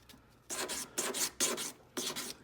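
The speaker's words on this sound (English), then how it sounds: "This is 220 sandpaper here. I'm going to go ahead, come in here and sand that one," A metal ring being sanded by hand with 220-grit sandpaper, four short scratchy rubbing strokes in an uneven rhythm, close and fairly quiet.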